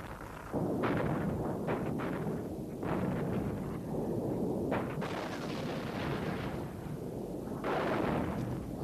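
Artillery firing in Yom Kippur War combat footage, a steady roar of heavy booms and rumbling blasts that swell and overlap in several surges, loud and continuous with a windy, distorted edge.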